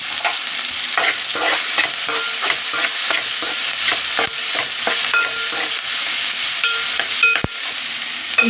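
Cashews sizzle loudly in hot oil in a pan for an eggplant chicken curry, with steady frying crackle and repeated scraping and stirring strokes close by, no talk.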